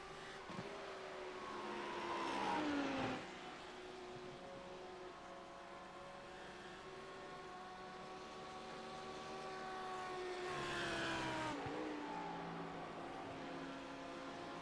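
A Lamborghini race car in a racing game at Le Mans, its engine note rising and falling through gear changes, swelling as it approaches, then a steady high-pitched whine as it runs alone on track.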